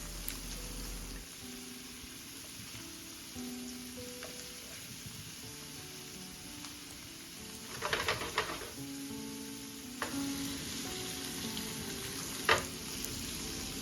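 Meatballs frying over high heat in a big-batch pan, a quiet, steady sizzle with a few louder scrapes and clatters as they are turned, and faint bird cooing in the background.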